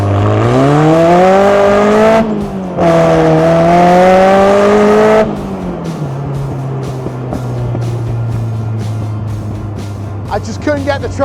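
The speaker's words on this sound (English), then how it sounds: "I'll try and give you an idea of how fast this accelerates" A car accelerates hard through the gears on a country road, the engine rising loudly in pitch, dropping briefly at a shift, climbing again, then settling into a lower steady drone with road and wind noise.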